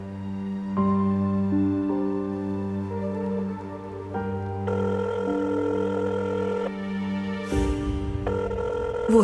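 A phone rings out in a steady electronic tone that repeats and shifts pitch, with faint background noise and no voices over it.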